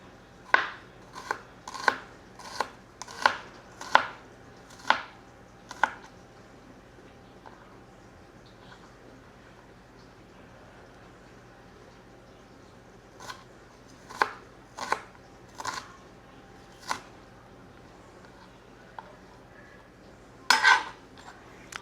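A knife chops garlic and shallot on a board, striking in quick bursts of sharp, evenly spaced cuts, then pausing before another run of chops and a final clattering double hit.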